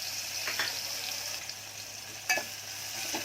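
Asafoetida, cumin and spices frying in hot oil for a dal tempering, a soft steady sizzle with a few light clinks of a spoon stirring in the pan, close and fairly quiet.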